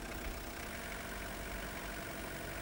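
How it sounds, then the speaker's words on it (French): Rover 100 diesel engine running at a steady idle, a continuous even mechanical drone with a faint knocking texture, close and unchanging, no voices. "démarrez le moteur avec une cale de 1 mm entre le levier de ralenti accéléré et la vis de calage"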